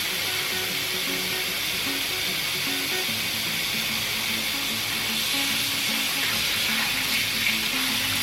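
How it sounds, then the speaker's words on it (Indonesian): Cold water pouring into a container during preparation of yabrak, the Arab stuffed grape-leaf dish, a steady running splash and hiss that holds evenly throughout without pause. "Kemudian kita transfer ke dalam wadah dan tambahkan air dingin."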